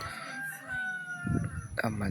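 A rooster crows loudly nearby, with voices chattering faintly behind it.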